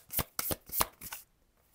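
A handful of quick, papery riffles as tarot cards are shuffled close up, several short bursts in a row, then quiet.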